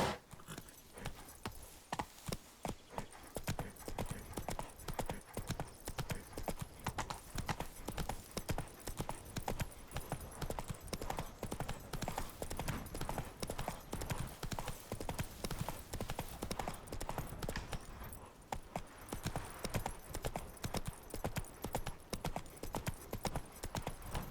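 A horse gallops in The Witcher 3 video game, with continuous rhythmic hoofbeat clip-clops that stay faint and steady.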